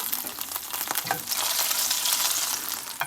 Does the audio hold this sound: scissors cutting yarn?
no